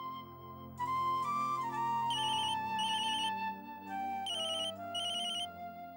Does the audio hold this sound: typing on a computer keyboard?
no